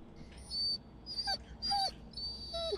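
An injured dog named Bullet in the Blair Witch video game lets out a string of high, thin whimpers, four drawn-out whines with falling ends over a low background hum, no talk.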